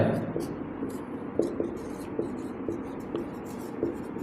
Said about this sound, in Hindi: 7वां नंबर पॉइंट अपने लिखते हैं